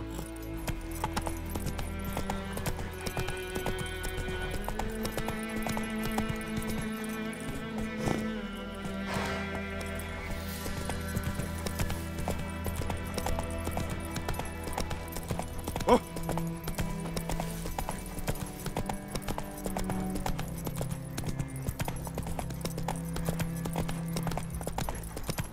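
Roach the horse walking in The Witcher 3, steady clip-clopping hooves under a continuous music score, with an occasional snort or whinny.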